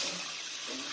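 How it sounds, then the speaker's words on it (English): Water for chokecherry syrup pours steadily from a tap, a brief, close, bright splashing hiss with no talk. "Now we need to put 6 cups of water."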